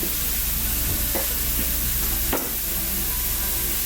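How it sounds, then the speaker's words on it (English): Chopped garlic and onions saute in a pan, giving a dense, even sizzle with one or two faint utensil knocks. The sound is close and fairly loud, and nobody speaks. "We have a little bit of chopped garlic that we're adding to the onions as they saute."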